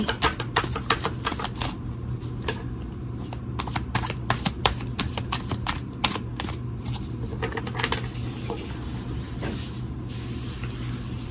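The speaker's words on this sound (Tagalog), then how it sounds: "Balasahin po natin mabuti." A deck of playing cards is shuffled over and over, a long run of rapid riffling flutters and snaps, close and steady, with a low engine-like hum underneath.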